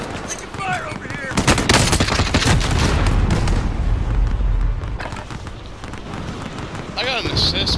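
Rapid bursts of automatic gunfire and heavy impacts fill a Call of Duty: Modern Warfare firefight, loud and dense throughout, with voices talking over the shooting.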